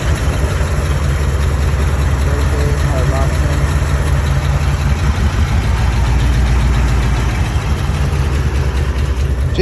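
1991 Chevrolet Corvette with a base 5.7 V8, not run in years, idling steadily nearby with a deep, even rumble throughout and a faint voice underneath.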